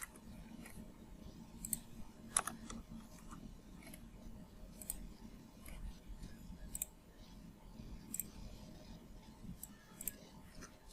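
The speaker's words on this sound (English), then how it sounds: "So we are typing the corresponding relational expression." Sparse computer-keyboard typing while a Java program is entered, scattered faint clicks and a few sharper key strikes spread over eleven seconds against a low hum, with no voices.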